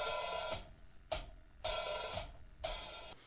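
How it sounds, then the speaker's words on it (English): Open hi-hat struck in a slow, even pulse, each hit a bright sizzling wash that rings out before the next, close and alone. "sounds like this when opened."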